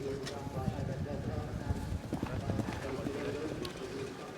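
Polo ponies walk out onto the field at a Guards Queen's Cup semi-final, their hooves clip-clopping in an uneven patter on turf beneath a commentator talking.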